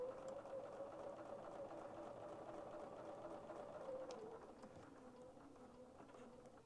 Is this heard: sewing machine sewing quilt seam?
yes